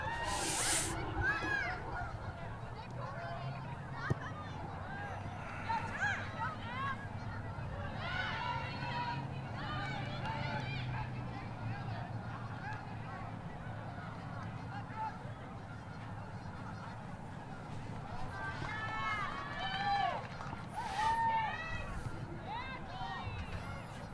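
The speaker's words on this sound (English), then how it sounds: "There goes the geese flying over the field." Geese honk repeatedly as they fly over a soccer field during a girls' soccer game, a scattered chorus of calls from mid-distance under ongoing crowd noise and people talking.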